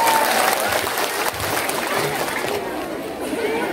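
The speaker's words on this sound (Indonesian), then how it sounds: "Tepuk tangan dong." An audience at a Maulid Nabi religious gathering claps in a brief burst of applause mixed with crowd chatter and a voice over it.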